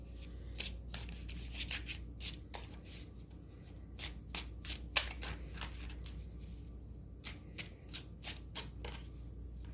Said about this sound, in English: going to go ahead and shuffle the deck and get the cards out